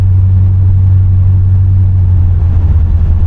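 A 1981 Chevrolet Corvette engine idles steadily, a deep continuous low rumble with a constant drone, close by and unchanging throughout.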